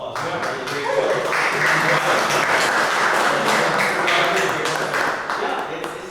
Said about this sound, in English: Okay, well, first of all, round of applause.